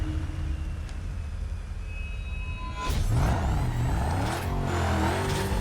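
A car's supercharger in the racing game Need For Speed Carbon, a steady engine drone that turns into a rising, wavering whine and roar after a few seconds, loud and with no voices.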